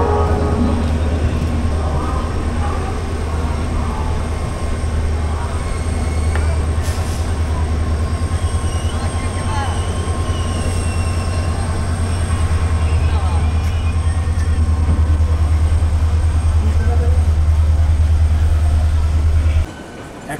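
Howrah–Titlagarh Ispat Express pulls out of Howrah station, a loud steady rumble and rhythmic clatter of rail wagons that runs continuously before cutting off abruptly at the end.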